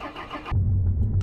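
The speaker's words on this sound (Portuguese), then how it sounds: "Vamos sentar aqui, vamos dar a partida." Car engine starting in the video game Mon Bazou, a sudden low rumble cutting in halfway and settling into a steady idle, close and loud after a stretch of background noise.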